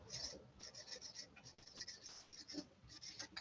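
A pen or marker writes on a board during a lesson on least common multiples, with a quiet run of short scratchy strokes in an uneven rhythm, faint and close.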